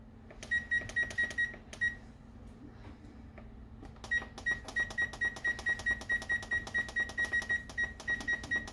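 Oven timer buttons beeping as they are pressed while setting the timer for baking apple cheesecakes, a quick cluster of sharp beeps, a pause, then a long steady run of repeated beeps over a low kitchen hum.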